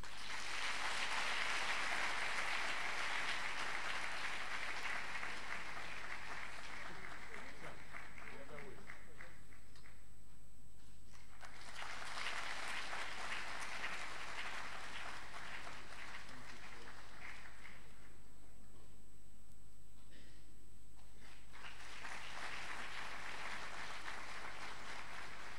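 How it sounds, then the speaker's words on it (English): At an honorary degree ceremony, an audience claps in long swelling waves, broad and fairly distant, each burst lasting several seconds with brief lulls between and faint room noise underneath. "Shall we keep the applause going?"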